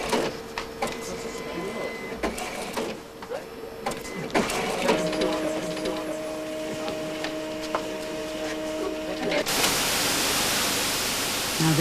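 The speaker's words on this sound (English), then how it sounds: "Here it comes out of the printer." A computer printer feeds out a printed sock pattern with a steady mechanical whir and ticking, under a constant hiss and a few sustained tones. The noise grows louder and denser toward the end.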